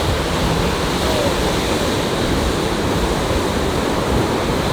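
Ocean surf washing onto a beach makes a steady, loud broadband roar that holds throughout without a break, with wind buffeting the microphone close by.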